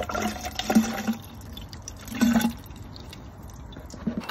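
Coolant poured into the overflow tank of a Subaru radiator, a close gurgling liquid trickle in a few short bursts over low background noise, with no talk.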